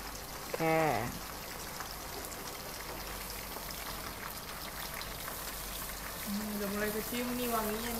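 Chicken pieces and shallots fry in hot oil for Batam-style white fried chicken, with a steady, crackling sizzle that runs throughout while voices talk briefly near the start and again near the end.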